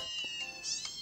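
A kitten meows in the Nintendogs video game, a short high-pitched electronic mew repeated in quick succession, clear and close with no talk over it.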